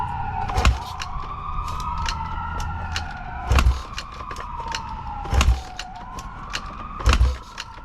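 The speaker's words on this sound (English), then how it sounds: "it's an ambulance" An ambulance siren wails in long rising and falling sweeps from some distance, interrupted by several loud low thumps and bursts of noise nearby.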